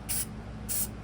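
Two short bursts of matte clear coat spray hiss onto a model rail car, each about a fifth of a second, close and bright with a brief pause between.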